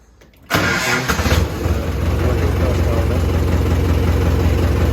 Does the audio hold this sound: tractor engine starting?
yes